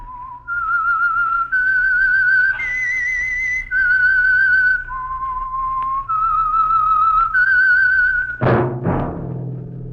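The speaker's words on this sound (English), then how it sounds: "That whistle is your signal for the Signal Oil Program, The Whistler." A lone person whistles a slow, haunting melody of sustained notes as the radio theme signal for The Whistler, ending with a sudden sharp percussive hit.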